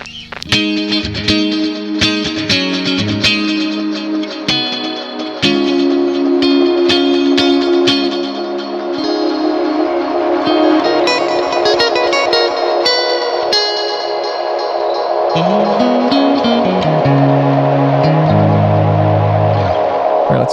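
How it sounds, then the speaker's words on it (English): An electric guitar plays through an Eventide TimeFactor delay set to a reduced bit depth, giving a gritty, distorted sound. Loud, close notes and chords smear into dense trailing echoes, and a few lower note runs come near the end. No one speaks. "You can reduce the bit depth and make it really,"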